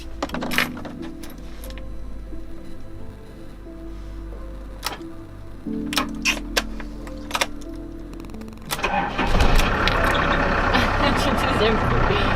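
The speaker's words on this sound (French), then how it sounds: "ça a démarré" Iveco camper van diesel engine cranking after preheating and catching, a ticking, knocking turnover giving way to a steady louder running rumble, close by with outdoor background.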